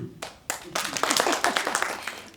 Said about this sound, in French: qu'est-ce que vous attendez pour applaudir?